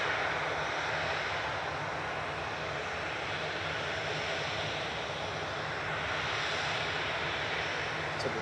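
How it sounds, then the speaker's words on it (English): A Ryanair airliner departing Manchester Airport for Pisa, a faint, distant, steady jet roar with broadband rushing noise that swells slightly toward the end. "departing next is Ryanair 5624 to Pisa"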